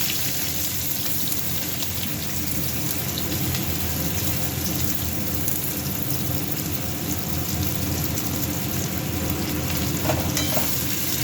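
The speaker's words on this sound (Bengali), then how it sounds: "পেঁয়াজটা ভাজা হলে" Onion frying in oil with fenugreek seeds and bay leaf makes a loud, steady sizzle close up, with faint stirring scrapes and occasional crackles and no one talking.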